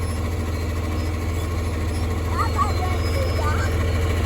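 A John Deere 4020 tractor engine runs with a steady, loud low drone and vibration, and voices talk over it.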